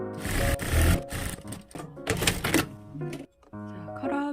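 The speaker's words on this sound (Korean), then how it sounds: "넥 위쪽 부분 카라 위쪽 부분 쭉 박음질 해줄게요" A sewing machine runs in short bursts while stitching along the top of a jacket collar, its rapid mechanical whir starting and stopping close by, interleaved with clunks and handling noises.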